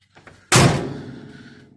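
A metal door on a fertilizer buggy slams shut with one loud, sharp bang that rings and decays over about a second, preceded by faint rattling of the latch.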